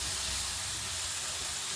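Green peas tipped into a hot spiced kadai for Bengali cauliflower roast set off a loud, steady sizzling hiss that stays even for the whole brief moment, with no talking.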